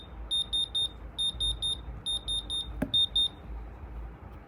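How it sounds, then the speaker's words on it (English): A diamond tester beeps on the stones of an iced-out Audemars Piguet watch with a yellow strap, repeated high electronic chirps in quick groups of three or four, close and clear over faint background noise. "Each and every stone is passing the diamond tester"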